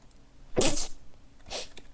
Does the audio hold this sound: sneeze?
yes